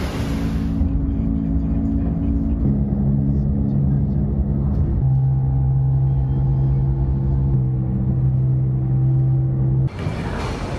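Interior of a limousine riding through Bangkok traffic from the airport, a steady low engine drone and road rumble with shifting tones as it changes speed, continuous and close, with no talk.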